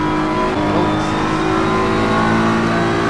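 A race car engine in Assetto Corsa Competizione, heard from the onboard view during a lap: a loud, steady, high-revving drone that holds strong the whole time, with no talk over it.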